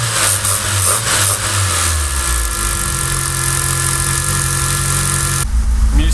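Engine of a Fiat Seicento Turbo idling close by, with a loud steady drone, a humming tone and a slight rattling vibration, and a brief shift in pitch near the end.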